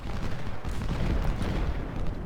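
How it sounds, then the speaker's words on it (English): Artillery batteries fire in the Civil War strategy game Ultimate General, a dense, continuous barrage of booming cannon shots and rumbling blasts layered over one another at steady loudness. "Meanwhile, our artillery will start shooting into Law"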